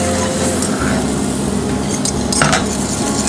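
A whisk works flour into melted butter in a pan for a bechamel sauce for lasagne, a steady loud sizzle with scraping whisk strokes and faint clinks against the pan running continuously.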